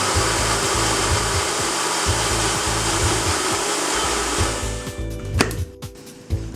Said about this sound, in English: You're going to whisk it now.